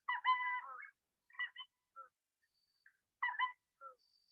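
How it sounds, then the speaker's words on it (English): A burrowing owl gives raspy, meow-like calls in a quiet setting: one drawn-out call, then short clipped bursts and softer chirps, repeated after a pause, close and clear. "And this is a burrowing owl too."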